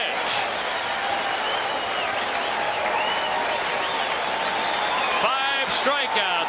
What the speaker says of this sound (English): as one they stand and applaud